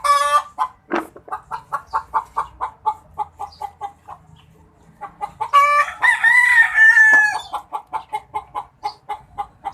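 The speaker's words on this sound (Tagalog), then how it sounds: "Poprotesta yata yung kasamahan na manok." A backyard hen clucks repeatedly in a fast, steady rhythm, then a rooster crows loudly up close before the clucking resumes.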